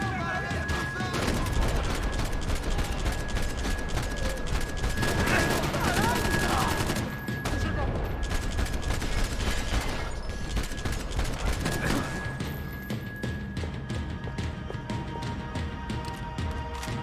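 Dense gunfire from the video game Max Payne 3, a near-continuous, loud barrage of shots and impacts running the whole time, with a steady game tone and talk heard over part of it.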